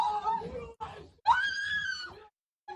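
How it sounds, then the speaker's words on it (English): A woman screams in anguish as her husband is dragged off toward the front lines, loud, rising wails broken by short pauses, close and alone. "I want people to hear the screaming of this woman as her husband is being dragged off to what is going to be certain death in the front lines."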